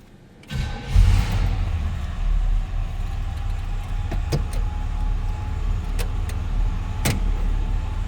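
A 1957 Chevrolet 210 two-door hardtop cold starts with a brief crank, then the engine catches and settles into a steady, close, rumbling idle, with a few sharp clicks and taps over it.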